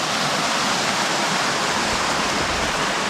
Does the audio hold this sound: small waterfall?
yes